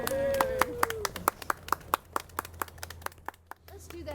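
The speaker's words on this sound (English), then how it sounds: "Let's give him a big round of applause." Wedding ceremony guests clap for a newly married couple. Sharp, distinct claps from a small group ring out in a steady rhythm and thin out toward the end, with a voice heard briefly at the start.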